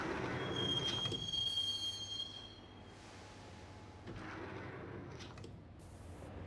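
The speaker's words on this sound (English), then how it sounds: "the train doors had already shut behind me, and I was in for the ride" A subway train rolls along in the game Max Payne, with a loud rumbling ride and a high wheel squeal early on, then quieter running and some rattling bursts, heard with no talk.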